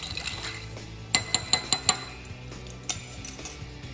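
A spoon clinks sharply against a glass several times in quick succession while a whiskey old fashioned with simple syrup is stirred, close and clear, with a last clink after a short pause.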